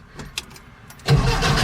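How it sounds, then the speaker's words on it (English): A VW Type 3 fitted with replacement carburetors cranking without catching: a few short starter clicks, then a steady churning crank that never fires, close and loud. "Just cranks, get absolutely nothing back out of it."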